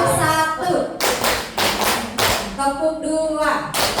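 Students and teachers at a school session on positive culture do a group clapping pattern: short, sharp bursts of many hands striking together, separated by moments of a group chanting and a leader speaking.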